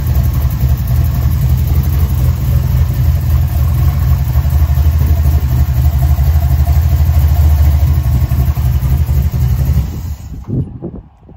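An LS-swapped 5.3 V8 in a 2000 Chevy S-10 Blazer two-door runs with a loud, deep, steady rumble close by, then quickly drops away and cuts off at the end.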